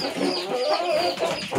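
A chicken clucks continuously up close, a steady run of throaty calls filling the short stretch without pause.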